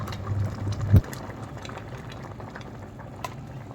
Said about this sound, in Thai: แกงก็จะเดือดเดือดอย่างนี้เลยนะคะ